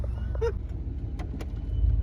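A 1995 Chevrolet truck drives during brake testing after a brake booster install, heard as a steady low engine and road rumble from inside the cab with a few faint knocks and creaks.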